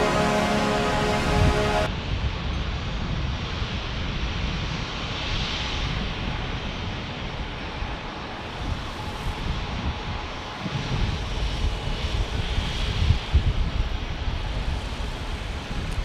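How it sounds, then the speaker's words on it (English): Lufthansa Airbus A350 taking off at San Diego airport, a steady broad jet roar that holds strong and continuous from start to finish, with a brief tonal whine at the very start. "here comes Lufthansa. Our A350 ready to take off"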